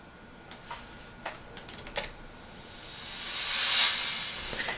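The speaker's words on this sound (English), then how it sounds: "And this is a reverse cymbal here." A reverse cymbal effect in a dance beat built in Pro Tools, preceded by a few light ticks, then a hissing wash that swells steadily louder over about two seconds before cutting off abruptly at its peak.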